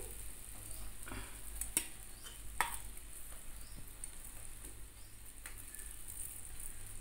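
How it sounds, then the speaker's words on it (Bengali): Fried okra tossed back into a pan over a full gas flame sizzles steadily with a soft broadband hiss, broken by a few sharp clicks and scrapes of stirring, with no voices. "গ্যাসের ফ্লেমটাকে ফুল করে দিয়ে ভেজে রাখা ভেন্ডিগুলো একসঙ্গে দিয়ে দিতে হবে।"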